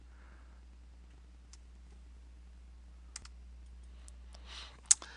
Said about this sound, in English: I'll click OK